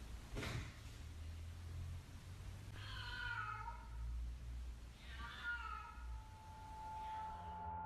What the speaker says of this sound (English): if it actually turns out to be a cat